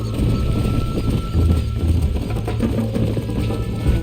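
Horse hooves galloping in the video game Red Dead Redemption, a steady rapid clip-clop rhythm that is loud and continuous, with no talk over it.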